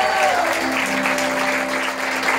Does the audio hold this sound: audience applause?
yes